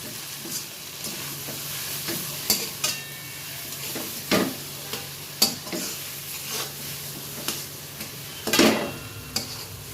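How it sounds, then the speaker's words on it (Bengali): A spoon stirs potato filling for aloo paratha in a pan, with soft scraping strokes and faint sizzling, punctuated by a few sharper clinks of metal against the pan. "এবার ভালো করে নাড়াচাড়া করে পুরের মতো রেডি করি"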